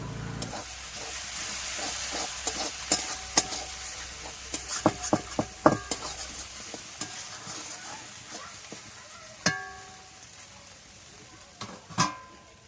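Oysters stir-fry in a pan with a low hiss and sizzle throughout. Repeated sharp clinks and scrapes come from stirring, clustered in the middle with a few louder knocks near the end, and there is no talking.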